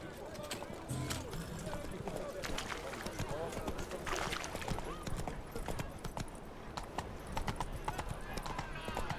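Roach, the horse in the video game Witcher 3, gallops along with a steady, rapid clip-clop of hooves running throughout. A voice talks over the hoofbeats.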